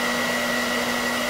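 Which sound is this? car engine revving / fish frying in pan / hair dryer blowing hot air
hair dryer blowing hot air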